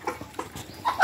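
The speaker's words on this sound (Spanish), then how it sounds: "ya está una gallina ya anidando" A nesting hen clucks and croaks softly in a few short, close bursts over about a second.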